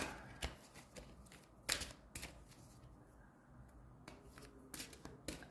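A Talking to Heaven oracle deck being shuffled by hand: crisp, close riffling and slaps in uneven bursts, quiet and with no voice.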